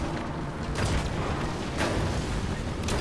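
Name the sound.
airstrike explosions in video game War Thunder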